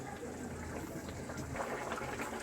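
Water is being poured into a pan of vegetable curry and starts to bubble, giving a steady, close liquid gush and sizzle with soft simmering underneath and no talking.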